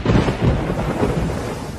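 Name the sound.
thunderstorm with rain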